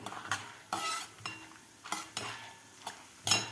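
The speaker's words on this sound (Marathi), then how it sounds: "याच तेलामध्ये आता आपल्याला डाळवसुद्धा तळून घ्यायचं आहे" Roasted chana dal fries briefly in hot oil for corn poha chivda, with a soft background sizzle broken by repeated sharp bursts of stirring and ladle scrapes against the pan.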